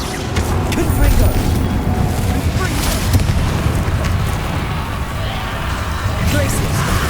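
Fiery Confringo spell blast from Hogwarts Legacy, a loud, rumbling burst that swells over a dense, continuous game mix of crackling and booming effects, with a voice speaking over it.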